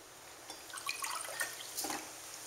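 Water is poured from one glass into another, giving a faint, soft trickle with scattered drips and splashes over a couple of seconds.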